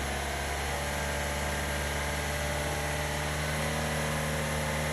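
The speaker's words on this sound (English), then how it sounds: "Now we will idle the engine for 5 minutes" A car engine idling steadily during a DPF and SCR catalyst cleaning procedure in limp mode, a constant close hum and whir under broad noise with no change in pace.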